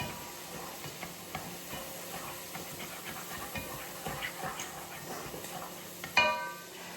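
Spices and fresh garlic frying in a pan at home: a steady close sizzle and hiss throughout, with a brief metallic clink near the end.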